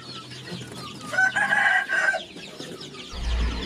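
Free-range village chickens and chicks cluck and call close by, a burst of bright clucking rising in the middle before settling, with a low thump at the end.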